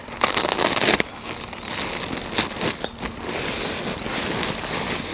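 Close, loud crinkling of a plastic bag of black hardwood mulch being torn open, then softer rustling and shifting of the bag and mulch as it settles.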